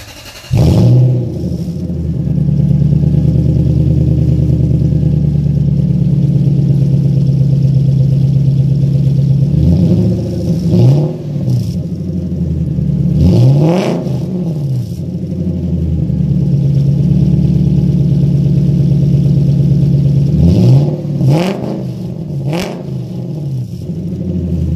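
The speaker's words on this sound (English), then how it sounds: "let you hear what my straight pipe sounds like" Lexus LS400 with a tucked harness and a homemade straight-pipe exhaust revving: a loud, raw, deep rumble at high idle, broken by several sharp throttle blips that rise and fall back, near and alone without talk.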